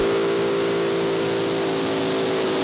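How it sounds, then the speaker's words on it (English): A pulling tractor powered by four blown 454 cubic inch Chevy engines roars at the 1991 Twin Creek Grand Nationals, a continuous, loud, full-throttle engine drone that holds steady throughout with no talking. "Here's a tractor that's a little down on power. 4 blown 454 cubic inch Chevys."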